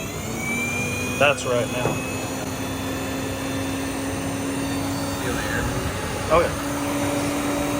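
Radiator fan on a Polaris RZR 170 with a swapped-in Honda 400EX engine, blowing air in a steady continuous whoosh with a faint whine, while people talk briefly over it.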